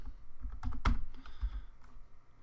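Quick keystrokes on a computer keyboard as dates are entered into a spreadsheet, a close, irregular run of light clicks with a few heavier taps, no voices.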